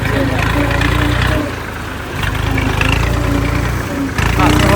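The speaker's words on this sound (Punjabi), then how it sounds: "ਲਓ ਜੀ ਦਰਿਆ ਚ ਵਾੜਦਾ ਟਰੈਕਟਰ" A loud, steady Massey Ferguson 240 tractor engine rumbles close by as it drives into a river, dipping briefly in the middle before surging again, with voices faintly underneath.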